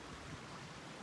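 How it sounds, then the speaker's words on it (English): Small river at Nelson Falls flowing under a road bridge near Queenstown, a steady broadband rush of running water that holds close and even for the whole second, with no voices. "This is a river."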